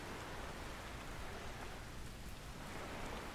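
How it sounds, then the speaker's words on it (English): Rain falls steadily in Microsoft Flight Simulator 2020, a faint, even hiss of water and raindrops with no voices or other sounds. "can you hear the water? Just the sound of the water."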